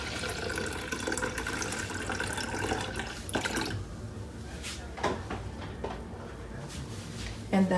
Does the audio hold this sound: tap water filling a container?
yes